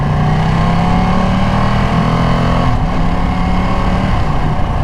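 A rare Ducati motorcycle runs under way with a loud, close engine drone, its pitch holding steady and then dipping briefly as though during a shift. There is no talk.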